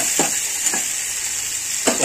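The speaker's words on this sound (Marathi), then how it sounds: "तडका द्यायचा." Tomato tadka tempering with chillies in hot oil, a steady bright sizzle with a few soft stirring clinks, close and continuous with no talk.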